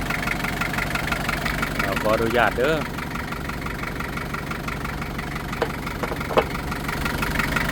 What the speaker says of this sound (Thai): นี่คือห้องเครื่องการทำงานของเครื่องยนต์